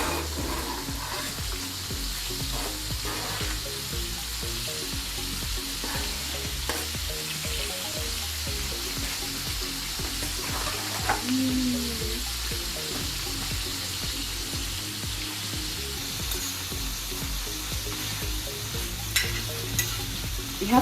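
Breakfast sausages fry in a pan with a steady, continuous sizzle as they are stirred and turned, occasional scrapes and knocks standing out, no talking in this stretch.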